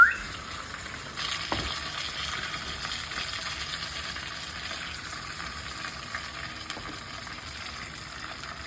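Chicken frying in hot oil, golden brown in the pan, giving a continuous even hiss with a couple of faint clicks, close and fairly quiet, no voices.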